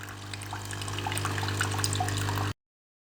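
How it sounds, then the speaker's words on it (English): Water runs steadily through a Tassimo Suny coffee machine during a descaling cleaning cycle, a continuous close trickle and pour with a low machine hum underneath, stopping abruptly near the end. "let it run through and clean itself and tip away the water."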